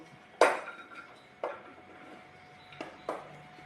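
Cut chunks of ripe jackfruit are dropped into a metal pressure cooker, giving a few separate clanking knocks spread over a few seconds.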